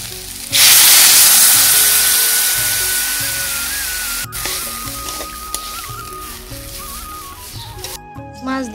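Broth is poured into a pan of fried fish with potatoes and vegetable stalks for a fish curry. It sets off a sudden loud sizzling hiss that slowly dies down, with faint tonal whines and clatter under it, before cutting off abruptly.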